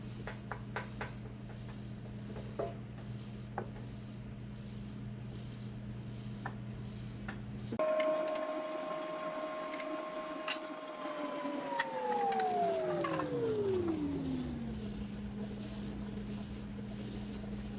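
Fryer oil filtration machine running, a steady mechanical drone with a tonal hum that shifts midway, then slowly glides downward in pitch, continuous and close with no talking.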